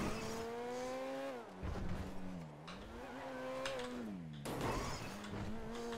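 Car driven in GTA 5 RP with a steady, loud engine drone that rises and falls in pitch as it accelerates and eases off, with brief gear-change dips and some rougher tire noise.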